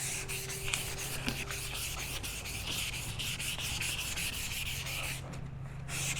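A headlight lens is wet-sanded by hand with 500 grit sandpaper under firm pressure, giving a steady close rasping rub in quick repeated back-and-forth strokes for several seconds.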